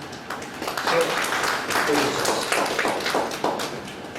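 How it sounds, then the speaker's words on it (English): Audience at a study circle meeting for accountants applauding to welcome a speaker, a steady patter of many hands clapping at moderate loudness that carries on with no break. "let us all welcome CA.Venkatesh with a round of applause"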